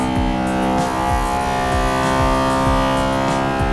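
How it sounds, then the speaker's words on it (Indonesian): A Kingroon KLP1 3D printer drones steadily through a vibration calibration, a loud, sustained siren-like hum of stacked tones with faint regular ticks running underneath, close up. "Ini namanya kalibrasi getaran"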